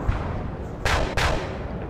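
Ship cannons firing in a naval battle in the game Napoleon Total War, two sharp loud booms close together over a dense, rumbling roar of ongoing battle noise.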